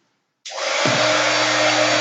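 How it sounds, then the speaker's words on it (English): Heat embossing gun switched on for crafting, a sudden loud blower whoosh like a hair dryer that starts abruptly, settles into a lower motor tone, then runs steadily and closely with no talk. "turn my heat embossing gun on. And it's going to be loud"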